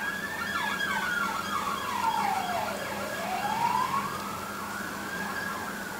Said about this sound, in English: A couple of emergency vehicles going past.